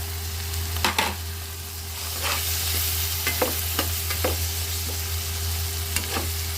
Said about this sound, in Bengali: আমি এটাকে 5 মিনিট কষিয়ে নিব